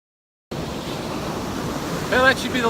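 Ocean waves washing onto a North Carolina beach, a broad steady surf rush starting after a brief silence, with a short burst of chirping or squealing near the end.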